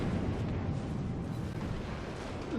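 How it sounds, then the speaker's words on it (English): Gunfire from a US battleship's rear two turrets in the World of Warships video game, heard as a dense continuous rumble of cannon fire and booms, loud and close with no speech. "Fire my rear 2 turrets at it."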